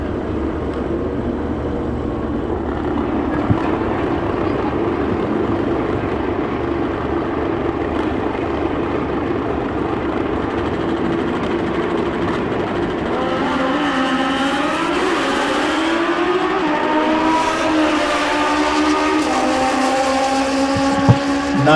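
Racing lawn mowers at a drag race, one an old-fashioned jigsaw mower fitted with wheelie bars, hold a loud, steady engine roar, then rise into a climbing, revving whine as they launch.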